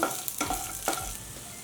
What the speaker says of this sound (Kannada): 1 ಬೆಳ್ಳುಳ್ಳಿ ಗಡ್ಡೆ. ಲೋ ಫ್ಲೇಮಲ್ಲಿ ಹದವಾಗಿ ಹುರ್ಕೊಳ್ಳೋಣ.